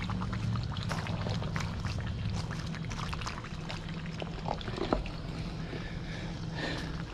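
Gray water from an RV holding tank gushes through a dump hose at an RV resort campsite, a steady, continuous rushing pour with small splashy ticks, moderately loud and unbroken for several seconds.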